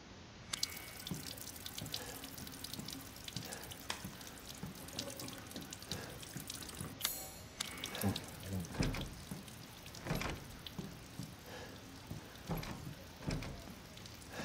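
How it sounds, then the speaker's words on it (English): A faucet runs with water pattering into a sink inside a Resident Evil game level, a steady wash of splashing and dripping laid over dim ambient noise for the whole stretch, with a few sharper clacks and no talk. "Okay, it's just the faucet."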